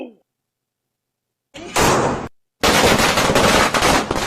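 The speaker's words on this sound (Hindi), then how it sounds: "सबे बारात है ना, इसलिए पटाखे फोड़ना है" Firecrackers burst for Shab-e-Barat, a short loud crackling blast followed after a brief gap by a longer sustained rattle of rapid pops, close and harsh, with a brief sound at the very start.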